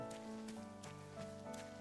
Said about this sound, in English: doesn't look like we can go down there while it's raining.